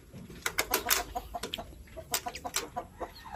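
Chickens in a backyard coop cluck nearby in short uneven bursts, loud and close, with several birds overlapping and no talk.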